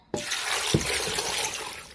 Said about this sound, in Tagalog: Tapos, lalagyan natin ng tubig guys.